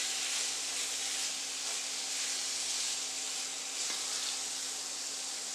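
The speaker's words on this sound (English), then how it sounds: "We're going to allow the beef to brown and take up the seasonings." Beef browns with paprika, black pepper, bouillon and thyme in a pan, a soft, steady sizzle with a faint hum running under it, continuous and quiet, with no voices.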